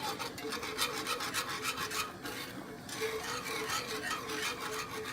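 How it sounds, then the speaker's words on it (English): Grated Parmesan stirred into milk in a pot, a steady scraping, rasping swirl with rhythmic strokes, close and continuous throughout with a brief lull midway. "so then we're gonna add a cup of grated Parmesan. And stir that in."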